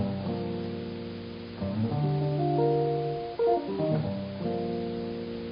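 Clean jazz guitar chords, sweep-picked, ring out in a slow sequence, each one swept and sustained, the harmonies shifting every second or so with no talking.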